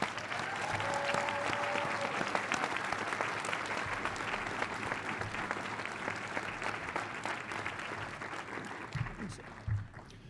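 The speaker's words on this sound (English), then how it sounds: "Let's have one last round of applause for all of our graduates today." Sustained audience applause for graduates at a fall graduation ceremony, dense and steady clapping from a large crowd that continues throughout, with a faint tone briefly early on and a few louder bumps near the end.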